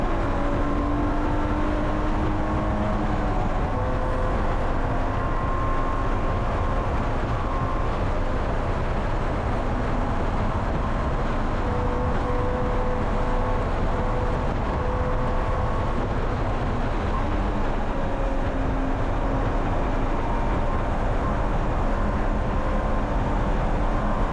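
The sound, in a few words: super touring race cars passing on racetrack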